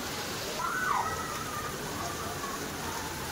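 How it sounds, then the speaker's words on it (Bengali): Heavy rain falling outdoors, a steady even hiss of downpour throughout at moderate loudness, with a faint whistle-like tone rising briefly in the first second. "এত বৃষ্টি ভিজাটা ভালো না, শরীর খারাপ হয়ে যাবে, প্রচুর বৃষ্টি হচ্ছে"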